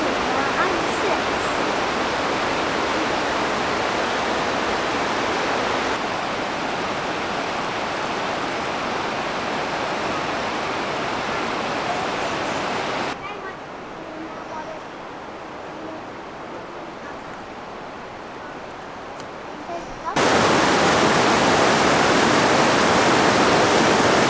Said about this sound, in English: we are at Sandstone Falls here in New River Gorge.